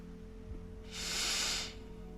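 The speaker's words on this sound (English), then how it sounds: "breathe at a speed that you can hear the air flowing through your nostrils" A slow, audible breath drawn through the nostrils during a calm meditation, one soft airy hiss swelling and fading near the middle over a faint steady hum.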